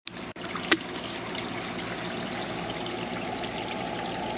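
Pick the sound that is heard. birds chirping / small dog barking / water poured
water poured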